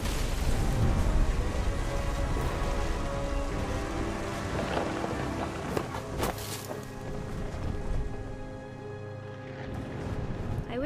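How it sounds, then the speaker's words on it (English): A thunderstorm in the video game What Remains of Edith Finch: steady heavy rain with rolling thunder, under continuous talk. "The thunder sounded much too close and full of angry power."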